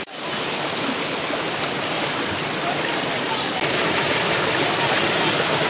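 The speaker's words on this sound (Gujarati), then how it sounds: "બધું છે ને ઉપરથી પાણી આવે છે" Water pouring down from above at the Jata Shankar waterfall, a steady, dense rush of falling water that holds evenly throughout, loud and close, with no clear speech over it.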